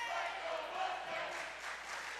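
A crowd at a college volleyball match in a gym gives a continuous, moderately loud roar of cheering and chatter, with no single voice standing out.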